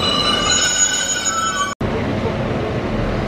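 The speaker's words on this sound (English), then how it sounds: "Liverpool Lime Street train." A train at Chester station squeals loudly as its wheels grind on the rails, a sustained high-pitched metallic whine with layered tones that cuts off abruptly midway, leaving a low rumbling station ambience.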